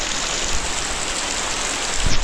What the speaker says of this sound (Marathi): आहे बघा जोरातच आला पाऊस